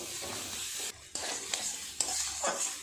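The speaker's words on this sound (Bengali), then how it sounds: "খুব ভালো করে সমস্ত কিছু আবারও একটু নেড়ে চেড়ে ভাজা করে নেব।" Cauliflower and spices stirred and fried in a pan, a steady close sizzle with repeated scraping strokes of a spoon against the pan, briefly quieter twice between stirs.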